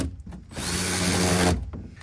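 A power tool drives hardware into the bottom of a RokBlokz mudflap bracket on a 2020+ Chevrolet Silverado 2500/3500 SRW, a steady close whir lasting about a second between quieter handling noises.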